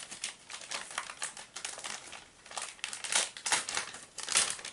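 Tape being peeled off the back of PC part packaging, a run of crinkly tearing and crackling bursts that swell loudest near the end, close and alone with no talk.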